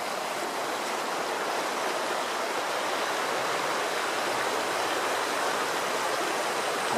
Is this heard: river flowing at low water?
yes